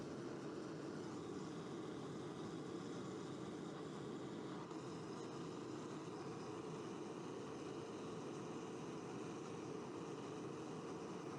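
A blowtorch heats a cast alloy wheel on a Yamaha MT-07 motorcycle to melt Loctite, giving a steady, close roaring hiss that runs unbroken throughout with no talking.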